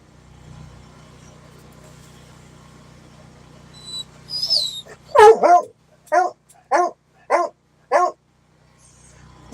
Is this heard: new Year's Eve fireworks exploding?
no